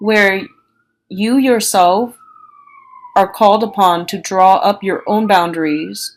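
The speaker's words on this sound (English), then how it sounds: "excuse the siren." A faint siren glides downward in the background outside during a pause, while someone talks steadily in the foreground for most of the time.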